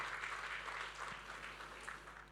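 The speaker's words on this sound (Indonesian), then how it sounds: "Yang percaya berikan tepuk tangan" Applause from a church congregation during a Sunday service, a soft, diffuse patter of clapping that stays faint and distant over a low steady hum and fades slightly toward the end.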